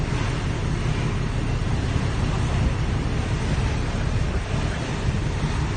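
Waves out on the open sea with strong wind buffeting the microphone, a dense continuous roar and wash that stays loud and steady throughout.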